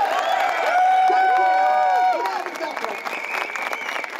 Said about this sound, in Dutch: Mag ik een applaus voor Ellen?